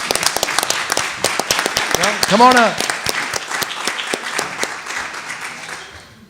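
Audience applause at a school district board meeting, sharp claps from nearby people that build, then slowly fade, with a voice briefly speaking over the clapping partway through.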